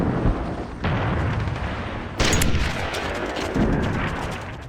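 Sniper rifle fire in the 2002 World War I shooter Iron Storm, heavy booming shots that ring out and roll away in long echoing reverb, several reports layered over one another with no voices present.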